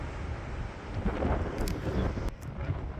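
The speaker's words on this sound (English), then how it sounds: "it's very windy out here" Strong wind buffets the microphone in a steady, rumbling roar, swelling louder in the middle before easing slightly, with no voices.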